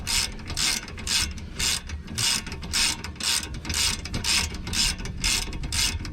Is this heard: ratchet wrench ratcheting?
yes